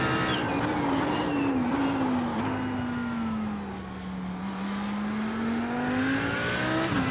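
An Audi race car drives through corners with a steady engine drone that dips and climbs in pitch under braking and acceleration, heard continuously from the cockpit, with no talk.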